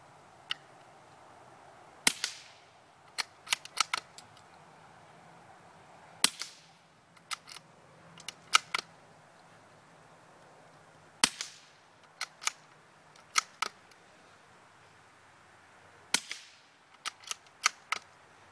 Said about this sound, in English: Same setup, Savage Arms, Mark II 22 with a Thompson Zephyr.